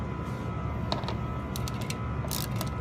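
A ratchet works on 7mm bumper bolts under a Corvette Stingray, giving a few faint, quick clicking bursts over a steady background hum.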